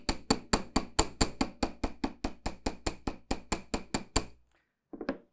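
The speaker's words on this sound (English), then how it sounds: "So what I want to hammer is what I put on the bench block." A hammer strikes jewelry wire on a metal bench block about twenty times in a fast, even rhythm, each tap bright and ringing, then stops; a faint voice follows briefly.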